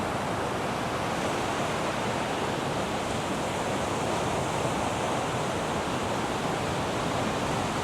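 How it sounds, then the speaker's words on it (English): Ocean waves pound the shore in a dense, unbroken roar of surf that stays loud and steady throughout, with no voices. "As you can hear the force of the waves in the ocean"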